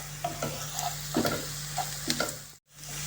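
Carrots and onions stew in a pan, giving a continuous soft sizzle with several short scraping stirs spread across it, a low steady hum underneath, and a brief dropout near the end.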